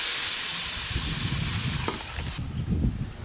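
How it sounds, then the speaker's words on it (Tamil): Water poured into a pan of mutton intestine curry with onion, tomato and masala, giving a loud broad sizzle and hiss that fades to a lower bubbling simmer, with a brief clatter near the end. "குழம்புக்கு தேவையான அளவு தண்ணி ஊற்றிடலாம்."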